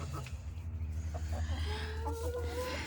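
Chickens cluck and murmur in a coop, several birds close by making short clucks and a rising squawk over a low steady hum.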